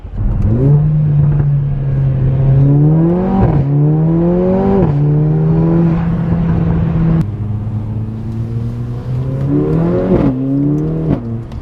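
A four-wheel-drive Mercedes A45 AMG accelerates hard, its loud engine note climbing steadily through the gears with sharp drops at each upshift, close and continuous with no talk over it.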